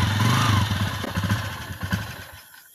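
A motorcycle engine putters nearby in the countryside, loud at first and then fading away as it pulls off, with no voices.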